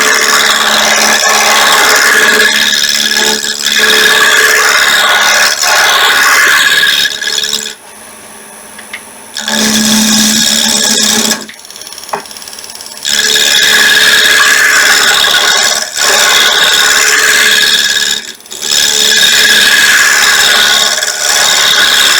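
A roughing gouge cutting wood on a lathe to make a honey dipper, a loud steady rasping scrape that pauses twice briefly and resumes, close and continuous with no talk.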